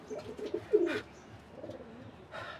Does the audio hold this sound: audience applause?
no